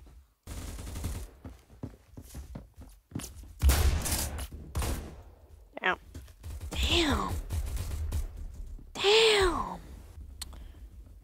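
Gunfire in the Roblox shooter Phantom Forces: several loud bursts of shots with a sharp blast near the middle, mixed with game effects and rising swoops, under intermittent talk.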